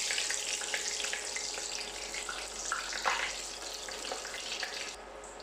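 Tempura pieces frying in hot oil, a dense continuous crackling sizzle filling the whole stretch, close and even, with a few louder pops midway and a slight drop at the end.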